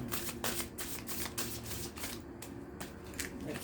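A deck of tarot cards riffles and slaps in a quick series of shuffles, crisp bursts repeating at close range with no talking.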